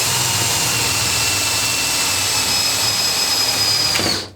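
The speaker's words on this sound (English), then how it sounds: "drill a little hole" A power drill bores a small centring hole into a router table plate, a loud continuous high whine that runs steadily for about four seconds before stopping abruptly.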